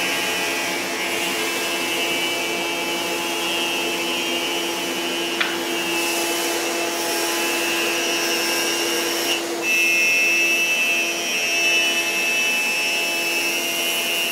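Hammer A3 jointer-planer surfacing the wide face of a thick oak board, a steady loud machine whine with a constant high tone running the whole time, with brief ticks partway through and a slight rise near the end.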